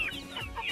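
A big hen on a small local poultry farm lets out a brief, nasal cluck with rising and falling tones, close and clear.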